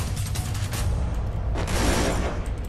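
Rapid gunfire in the mobile shooter Free Fire rattles loud and dense, with continuous overlapping bursts and no talking.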